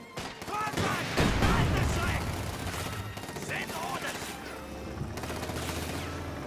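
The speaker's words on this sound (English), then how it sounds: "Machine gun battle going on in the middle here" A video game battle with a .50 cal machine gun and riflemen fighting, dense rattling bursts of gunfire overlapping with distant shots and booms, steady and continuous for several seconds at moderate volume.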